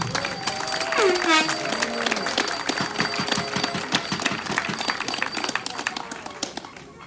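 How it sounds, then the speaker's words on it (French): Outdoor citizens' gathering claps for Joël, a burst of applause from a mid-sized crowd that swells into rhythmic, fairly close hand-clapping, with voices and a whistle-like tone early on. "on peut l'applaudir aussi"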